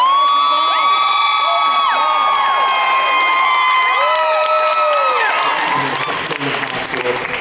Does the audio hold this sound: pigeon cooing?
no